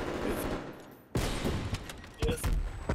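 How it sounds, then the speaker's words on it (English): Submachine gun fire in a first-person shooter video game: sharp bursts of rapid shots, with a short quiet dip before a loud burst and more bursts following, fairly close and loud. "It's a fucking SMG!"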